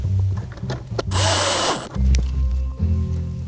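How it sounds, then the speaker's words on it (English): A power driver sinks self-tapping screws into a Jeep Cherokee XJ glovebox cupholder jig. Short bursts and one long rising whine of the motor are heard up close, separated by clunks and brief pauses. "using your driver and your 3 provided self-tapping screws, you're going to drive the 2 bottom screws in like so."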